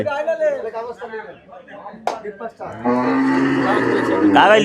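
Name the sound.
water buffalo at a cattle market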